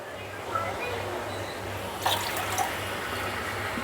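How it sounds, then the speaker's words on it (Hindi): Half a cup of water is poured into a pot in a home kitchen, making a steady, soft running trickle with a few light splashes. "ये 1/4 है मेरा, तो हाफ़ कप पानी डाल रही हूँ।"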